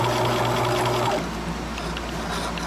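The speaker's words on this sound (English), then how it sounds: "I'm gonna sew across my pleat very carefully." A sewing machine runs steadily, stitching across a pleat on a small children's fabric mask, its motor whir continuing for about a second before easing to a quieter hum.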